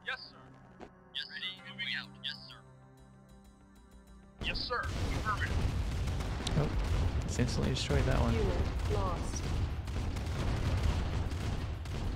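Artillery shelling in the strategy game Command & Conquer Remastered, with three artillery units firing: a dense, continuous roar of overlapping blasts and rumbling explosions that bursts in loudly after a few seconds of quieter game sounds.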